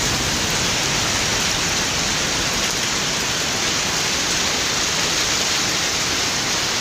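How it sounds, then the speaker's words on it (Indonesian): Heavy rain pouring steadily outdoors in windy, stormy weather, a dense, loud, unbroken hiss throughout with no voices. "Alhamdulillah hujan guys. Lama gak hujan."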